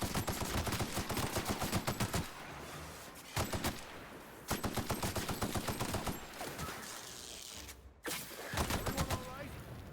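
Bursts of rapid gunfire in the video game The Outer Worlds, loud and dense in several volleys with short gaps between them, with faint talk underneath.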